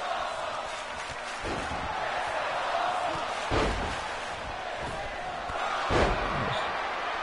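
A wrestler slams down onto the ring mat at an independent wrestling show, heavy thuds landing over a steady crowd murmur, with one sharp impact midway and another louder one near the end.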